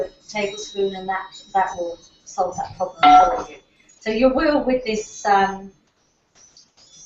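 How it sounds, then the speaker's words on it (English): A mobile phone ringtone that sounds like wind chimes plays during a home cake-baking session, with thin, bright tinkling tones running faintly beneath steady continuous speech. "we've got the wind chimes happening, have we? Yes, that's my phone."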